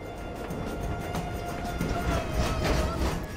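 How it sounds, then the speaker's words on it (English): A passenger train pulls into Agra Fort station, a steady rumbling roll with faint clatter and a thin squealing brake tone running through it, close and continuous with no talk. "Bang on schedule, the train pulls into Agra Fort station."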